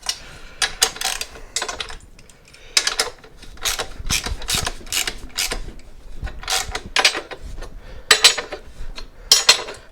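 A ratcheting torque wrench clicks while tightening a flat track motorcycle's rear axle, giving loud, irregular bursts of sharp ratchet clicks in quick runs with short pauses between them, and no voices.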